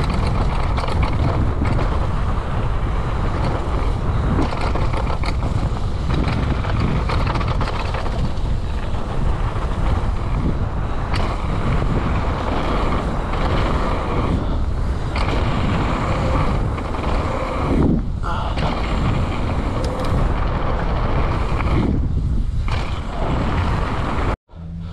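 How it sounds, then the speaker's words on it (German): Strong wind buffets a helmet-mounted action camera on a ski slope in Saalbach, a loud continuous rumbling roar that fills the whole stretch with only brief dips. "Boah, ist das ein Wind gerade."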